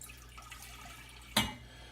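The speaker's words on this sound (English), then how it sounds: "we'll get this pot, and we'll put some water in here" Water is poured into a cooking pot while a sweet ginger drink is prepared, giving faint trickling and dripping followed by one brief splash.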